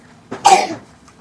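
A single close, sharp cough bursts out and fades quickly, with quiet surroundings before and after.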